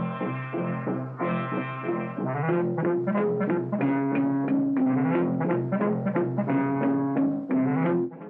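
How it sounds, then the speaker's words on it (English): Soundtrack from Disney's 1929 Silly Symphony The Skeleton Dance: a bouncy orchestral piece with plucked and xylophone-like staccato notes over a steady rhythmic bass line, playing alone and clearly throughout. "What you're hearing is from the original Silly Symphony,"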